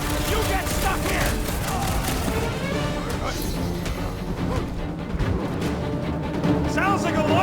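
Dense gunfire and crashing impacts from a battle in Marvel's Guardians of the Galaxy, a continuous clattering barrage mixed with game music and voices talking over it throughout.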